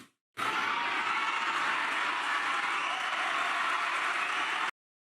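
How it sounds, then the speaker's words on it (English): An audience at a public gathering breaks into loud, sustained applause that starts abruptly and holds steady for several seconds before cutting off, with dense clapping and no distinct voices. "Massive applause when he told them his black son"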